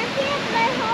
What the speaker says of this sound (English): So that's where the water's rushing.